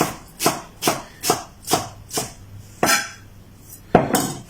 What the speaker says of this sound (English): I've got coriander, so I'm going to put my coriander, the stalks and everything, absolutely fine. Just going to roughly chop that.